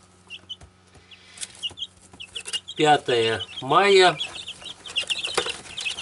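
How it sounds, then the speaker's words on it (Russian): Small chicks peep in high, scattered cheeps close by, with a brief spoken voice rising over them midway. "Цыплята"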